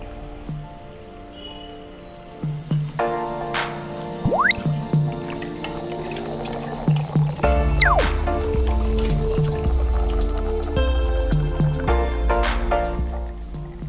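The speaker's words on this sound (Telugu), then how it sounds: "ఇలా మరుగుతున్న వాటర్లో మనం నానబెట్టుకున్న రైస్ వేసుకోవాలి" Soaked rice for chicken biryani poured into a pot of boiling water, producing a run of wet splashes and plops followed by steady bubbling and gurgling, close up, with no talk.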